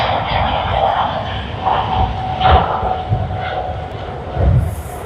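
A China Eastern Airlines jet at Sydney Airport, a loud, steady engine roar and whine from fairly close, with gusty swells as it passes.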